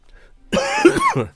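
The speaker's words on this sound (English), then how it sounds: "a wild bad cough" A single rough, harsh whooping cough bursts out after a moment of near silence, loud and close, with a raspy, phlegmy quality.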